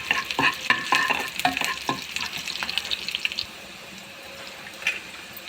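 Garlic frying with mustard seeds in a pan for South Indian dal tadka, with close stirring clatter and crackling sizzle over the first three seconds, then a quieter simmering hiss with one more stir.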